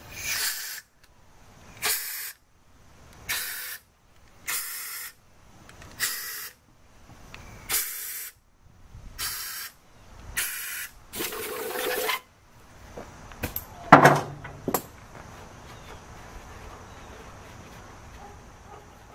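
Compressed air blows out the main bearing cap bolt holes of a 3.2-litre 2000 Isuzu Rodeo engine during a head gasket and crankshaft job, in about ten short hissing bursts repeated rhythmically, then a louder burst, with no talk.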